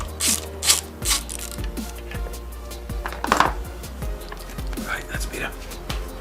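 Bolts are loosened with hand tools on a KTM 990 motorcycle engine while working on a failed timing chain tensioner. The clicks and metallic ratcheting come close up and repeat irregularly, with a voice talking over them.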